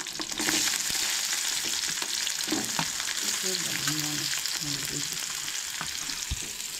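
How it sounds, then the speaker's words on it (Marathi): Onion and garlic fry in a little oil in a pan, a steady close sizzle with occasional stirring scrapes and clinks running throughout. "हलकेशें भाजून घेवंक जाय कांदो लसूण बीन आनी करपी"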